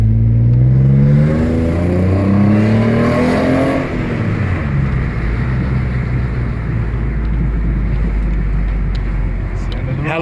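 An Alfa Romeo 156 3.0 with a sports exhaust revs loudly and close, the pitch rising and then falling away into a rumbling idle with wind noise.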